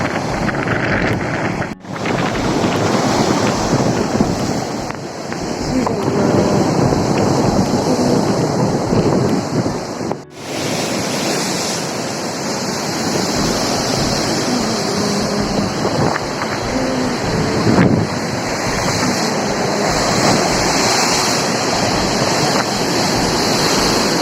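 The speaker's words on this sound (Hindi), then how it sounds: "बहुत तेज़ लहरें हैं, मेरी हिम्मत नहीं पड़ रही जाने की।" Strong ocean waves crash continuously at Yucca Beach in Bujumbura, Burundi, under steady gusting wind that buffets the microphone, loud and close with no voices.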